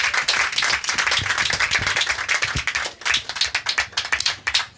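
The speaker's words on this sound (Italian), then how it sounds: "Farei un applauso a Gianni Boncompagni, solo questo." Applause from a small audience at a press conference for a short film festival, sharp close hand claps in a dense burst that thins toward the end into separate, uneven claps.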